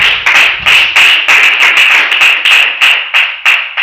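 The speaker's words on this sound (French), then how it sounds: "Let's clap for Jesus." A church congregation claps in a steady rhythm at an evening worship service, the sharp, loud claps landing close together and evenly spaced, with no talking over them.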